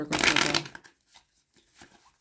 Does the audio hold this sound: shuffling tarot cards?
yes